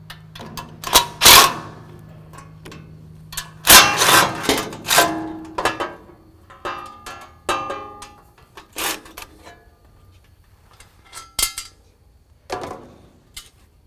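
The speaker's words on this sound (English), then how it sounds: "So now I'm going to take the front panel off." Work on the front panel of a SaltDogg 147 series mid-size SST V-box chain salt spreader, with irregular close metallic clinks, rubbing and scraping as parts are handled and removed, loud bursts separated by quieter pauses.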